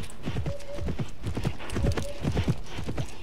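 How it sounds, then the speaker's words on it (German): Horse hooves galloping in a horse-riding video game set among wild mustangs, a fast, steady rhythmic clip-clop close up, with two brief whinnying tones over the beat. "Man kann auch einfach durch Gebüsch reiten."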